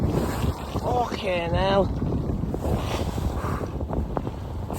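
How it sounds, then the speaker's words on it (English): Heavy wind roars over the microphone on a sailboat in a big swell without an engine, with waves washing and slapping continuously. A man exclaims loudly over the gusts. "Look at these waves."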